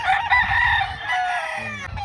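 A stag rooster crows in a backyard, one long loud drawn-out call close by, followed by short clucking at the end.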